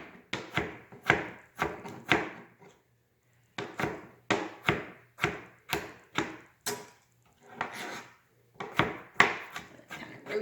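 A knife chops pickles for potato salad on a cutting board in quick, even, close knocks. Runs of a dozen or so strikes are broken by a short pause, then the rhythm resumes.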